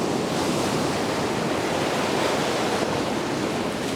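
Waves breaking on a beach shore while surf fishing, a loud, close, continuous churning roar of surf with wind buffeting the microphone.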